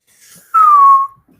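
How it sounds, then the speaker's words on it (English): A single short, loud whistle from a person, one clear high tone gliding slightly downward and lasting about half a second in an otherwise quiet room. "When you whistle, it really hurts my ear."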